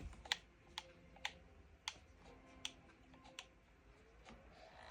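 Quiet keyboard and mouse clicks while a computer game is played on a laptop, coming as sparse sharp taps about every half second over faint background noise.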